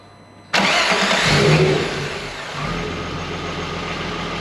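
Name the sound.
car engine starting after fuel pump primed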